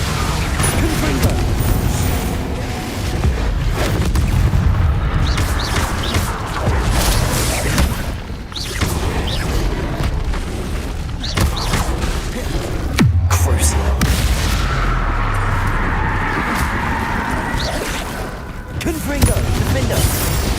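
Confringo explosive spells blasting in Hogwarts Legacy, loud repeated booms and crashes amid dense battle noise and music, with a voice calling out spells over the action.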